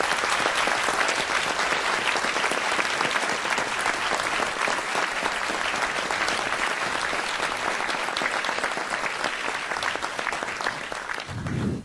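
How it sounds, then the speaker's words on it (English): A city council chamber audience gives sustained, loud applause for pump engineers, a dense unbroken wash of clapping that fades abruptly at the end. "let's give them a great big round of applause"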